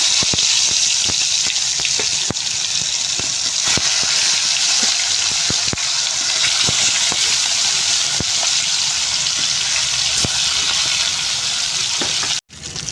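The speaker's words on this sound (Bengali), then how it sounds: "মাছটাকে ভালো করে ভেজে নেবো আমি" Murali fish rubbed with turmeric and salt fry in hot mustard oil, giving a loud, steady sizzle with scattered sharp crackles throughout and a brief cut-out near the end.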